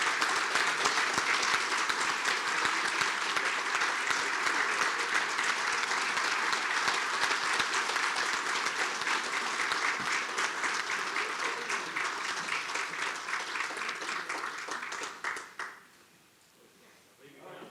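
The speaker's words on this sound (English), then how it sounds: "Give them a big round of applause." A large audience applauds at an awards gala for a county hall of fame, a dense sustained roar of clapping that holds steady for about fifteen seconds before cutting off abruptly into near silence.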